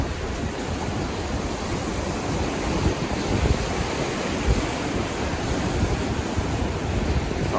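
Ocean surf breaking at Snapper Rocks, Rainbow Bay, heard close as a constant roaring wash with wind buffeting the microphone and a few louder surges, no voices.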